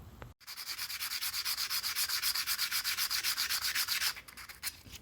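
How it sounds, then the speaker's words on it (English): A plane iron is rubbed back and forth on sandpaper to flatten its back, making a steady, rhythmic scraping of about two strokes per second, close and loud, with a brief pause near the start. "So I'll get this so that it's all, the sandpaper's hit every part of it"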